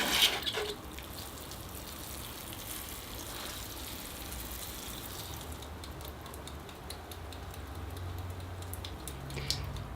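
Steady water pouring and splashing into the soil of a potted bonsai oak, a continuous close wash of sound lasting throughout with a small knock at the start.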